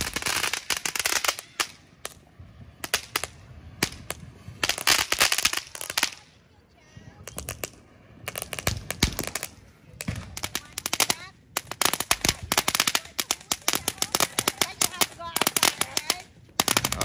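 Fourth of July fireworks and firecrackers burst in dense crackling volleys, with rapid pops and bangs in long runs and only a brief lull in the middle.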